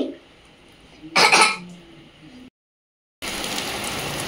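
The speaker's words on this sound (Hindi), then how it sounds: "बारिश हो रही ना इतनी तेज तेज तेज।" Heavy rain pours down in a steady, loud hiss, broken near the start by a brief cough-like burst and a short dead-silent gap before the downpour resumes.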